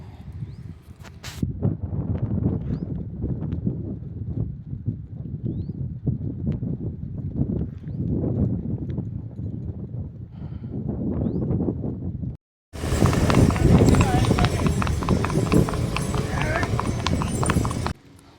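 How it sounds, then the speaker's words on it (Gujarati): Hooves of a mare clip-clop in a steady walking rhythm outdoors, close and fairly loud under gusting wind noise, with a voice talking over the first part. "ઘોડી આવે એટલે તમને બતાવું"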